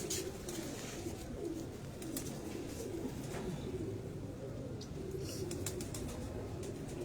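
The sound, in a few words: pigeons cooing on a rooftop loft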